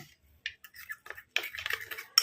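A spoon stirs juice into a face pack mixture in a small bowl, giving light, scattered scraping clicks and taps at close range, with no talking.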